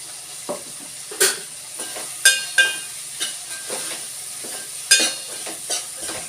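Spices and vegetables sizzle in a pan over a medium flame while bitter gourd fry cooks, with a steady hiss broken by sharp clinks and scrapes of a spoon stirring at irregular intervals.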